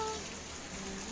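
Steady rain patters on surfaces as a soft, even hiss, faint and continuous, with no voices over it.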